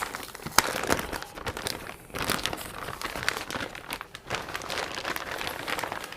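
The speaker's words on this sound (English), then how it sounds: "Let me take the plastic bag off." Plastic bag crinkling and rustling as it is pulled off a computer motherboard during a PC build, a continuous close, loud crackly texture with sharp crunches throughout.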